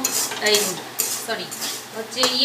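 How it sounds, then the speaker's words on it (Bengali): A spoon scrapes and clatters against a pan while semolina, vegetables and curry leaves are stirred together for a savoury upma, giving irregular metallic knocks and soft scraping up close, with a faint sizzle underneath. "এবার সুজির সঙ্গে সব সবজি, কারি পাতা একটু সুন্দর করে নাড়িয়ে নিচ্ছি"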